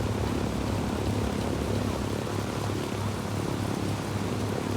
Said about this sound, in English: I think I can hear the plane more than I can hear my helo.